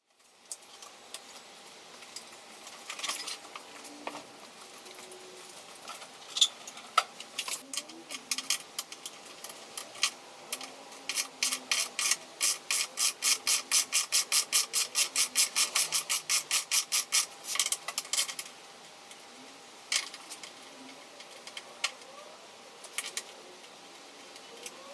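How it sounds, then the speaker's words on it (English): A 10mm socket wrench loosens bolts on a Suzuki V-Strom motorcycle's rear rack, giving sparse clicks followed by a long, rapid run of ratcheting ticks, close and crisp in a quiet setting. "I've just removed the bolts from the rear rack using a 10mm socket"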